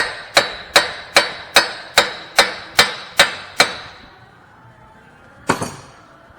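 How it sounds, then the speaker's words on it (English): A hammer strikes a CV axle on a first-generation Hyundai Santa Fe being replaced, nine sharp metallic blows in an even, steady rhythm, close and ringing, then a pause and one more hit. "Take you a hammer, doesn't matter if we damage it because we're replacing it."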